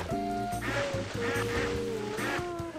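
Ducks quack repeatedly in the Tasty Blue video game, loud, close cartoonish honking quacks in quick overlapping bursts over watery game sounds.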